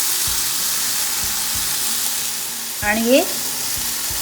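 Eggplant bharta mixture with green peas sautés in a pan: a steady close sizzle with soft, regular stirring taps, and a short spoken phrase near the middle.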